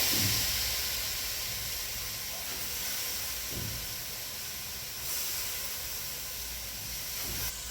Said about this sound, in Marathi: हे मसाले परतून घ्यायचे